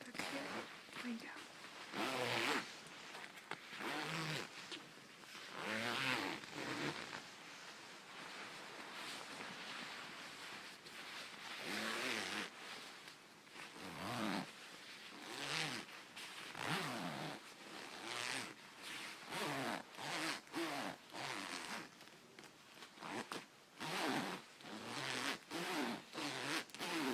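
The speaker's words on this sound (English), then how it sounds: "Sorry, my zipper's getting stuck here." A coat zipper is zipped up and down again and again in quick, raspy bursts, sometimes catching and snagging. It sounds close by, with a person talking between the pulls.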